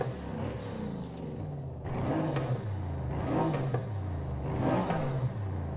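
A Mercedes-AMG's upgraded exhaust revs repeatedly in Forza Horizon 5, three rising and falling engine sweeps close and loud, each climbing to a high whine before dropping back.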